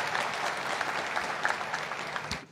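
A church congregation claps for a man during a sermon, a full and steady round of applause with scattered sharper hand claps that fades out quickly at the end.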